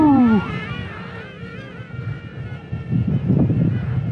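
Wind gusts buffet the microphone outdoors near a tiny KFPLAN KF603 flying boat plane, coming in uneven low rumbling surges that build louder toward the end, while a high motor whine wavers above.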